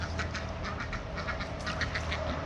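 A group of ducks quacks continuously near a backyard garage, with many overlapping raspy calls over a steady, noisy outdoor background.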